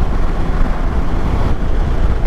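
A 2022 Kawasaki Versys 650 motorcycle cruising at about 70 mph and 5,000 RPM on a motorway, heard as a loud, steady wind roar over a low engine drone, with no talk.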